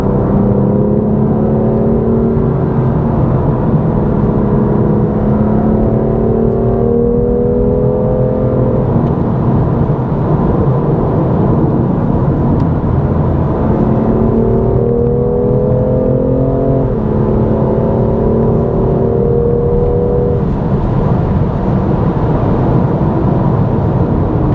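A car engine runs under load while the driver brakes with the left foot and holds the gas. It makes a loud, steady drone, and its pitch rises and falls in long sweeps of several seconds, with no speech.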